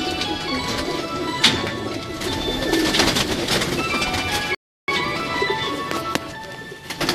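Pigeons coo repeatedly at close range on a Lahore rooftop amid a busy bed of bird calls and rustling, with a brief silent gap partway through.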